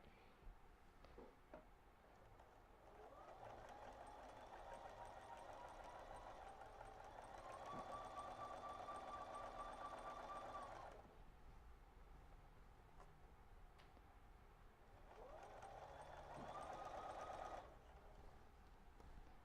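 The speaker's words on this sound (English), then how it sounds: "I gotta switch up to the sewing machine." A sewing machine whirs in two steady runs of several seconds each, a brief pause between them, fairly faint with a few clicks.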